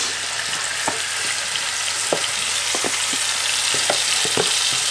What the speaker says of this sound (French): On met ça avec notre harissa et notre ail. On va faire réchauffer un tout petit peu.